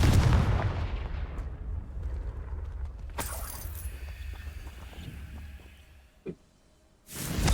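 Booming fire-spell blasts of Confringo in the Hogwarts Legacy video game: a heavy burst at the start, a sharp crack midway and another strong blast at the end, with low rumbling between and no talk.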